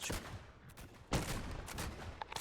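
Volley of musket gunfire fired on command in a French-speaking multiplayer line-battle video game, a sharp broad crack near one second followed by scattered shots and crackle, with no speech over it.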